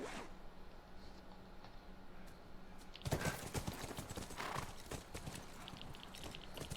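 Horse hooves in The Last of Us: a fast series of clip-clop hoofbeats on the ground begins a few seconds in and carries on steadily and close, with no talk.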